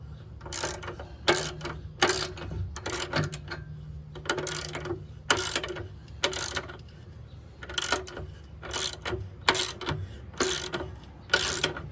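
Ratchet tightening sway bar bushing bolts on a Dodge Charger R/T, a series of quick clicking bursts repeated in steady rhythm, close and clear with no talk.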